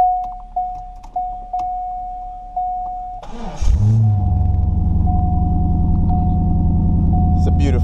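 A Chevrolet Corvette C5 engine cranks and catches after a jump start from another car, then settles into a loud, steady idle rumble following a few seconds of intermittent beeping.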